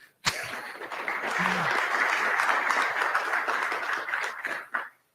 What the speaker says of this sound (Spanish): yo creo que merece hasta un pequeño aplauso, ¿no?